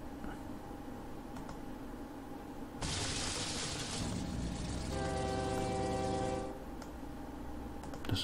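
A train runs in the OpenTTD railway simulation game: a loud, steady rumble swells in, and a sustained horn blares near its end before the noise drops away.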